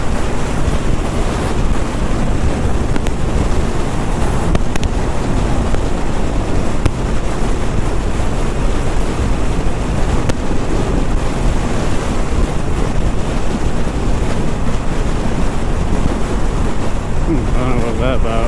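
A 2019 Harley-Davidson Iron 1200 motorcycle cruising at about 80, with a loud, steady roar of wind buffeting the microphone that lasts the whole ride and covers any engine note.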